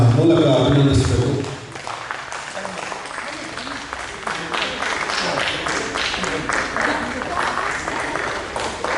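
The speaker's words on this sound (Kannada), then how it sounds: "ಹಾಗಾಗಿ ದೊಡ್ಡ ಚಪ್ಪಾಳೆಯ ಮೂಲಕ ಅಭಿನಂದಿಸಬೇಕು" A ceremony audience breaks into sustained applause at the opening of a trust's lamp-lighting program, following a brief voice; the dense clapping runs steadily for about seven seconds.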